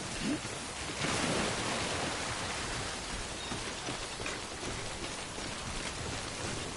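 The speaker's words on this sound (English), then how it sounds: "It is raining." Heavy rain pours down steadily in the video game Death Stranding, a dense, unbroken hiss that stays loud throughout with no voices.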